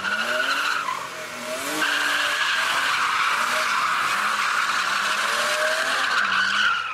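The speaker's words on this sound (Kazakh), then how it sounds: "Көлікпен бұлайша жүйткіп, әрлі-берлі жанымен сырғып айналуға екінің бірінің ерлігі жете бермейді." A car drifts back and forth with sliding tires, giving long, loud squeals that rise and hold, along with engine revs changing pitch, close by and steady for several seconds.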